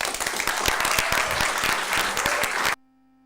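Concert audience applauding a slam performer, a dense, loud wash of clapping with some crowd noise that stops abruptly near the end.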